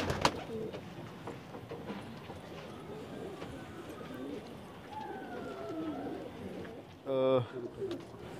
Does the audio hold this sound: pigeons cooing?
yes